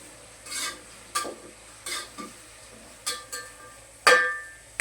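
A spoon stirs vegetables with a pinch of turmeric powder in a pan for veg fried rice, making several separate scraping and clinking strokes with short pauses between them.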